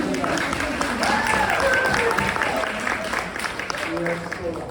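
Audience applause at the opening of an exhibition on Jewish arts and lives in the Muslim world: steady broadband clapping from a crowd, fairly loud throughout, with voices talking over it.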